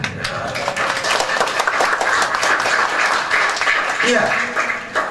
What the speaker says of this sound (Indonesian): Ini boleh tepuk tangan.